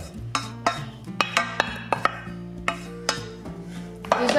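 Romaine heart, onion and garlic softened in olive oil are stirred in a pan, with a utensil clicking and scraping against the metal in quick, irregular strokes up close under a faint sizzle.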